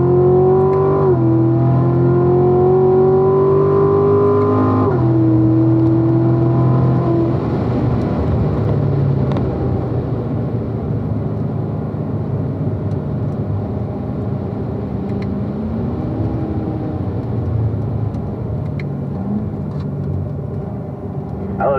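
A Grand Sport car's engine drones loud and close as it drives through track turns at a driving school, pitch rising and falling with the throttle as it brakes into a corner and accelerates out.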